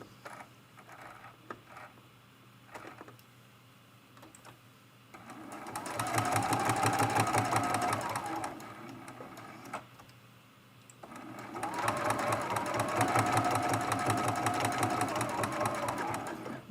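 A domestic sewing machine stitches a back stitch on a hexagon-patchwork mug rug in two steady whirring bursts of several seconds each, with quiet pauses and soft handling noises between them.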